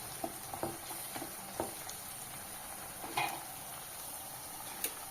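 Bitter gourd fry with green chillies and curry leaves sizzles steadily in a pan while a spoon stirs it, giving scattered scraping clicks and taps over the constant frying hiss.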